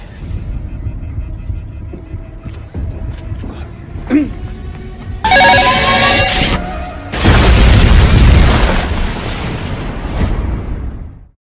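A building doused with gasoline blows up in a film scene. Quieter scene sounds give way to a loud, booming blast with a long rumbling, crackling tail.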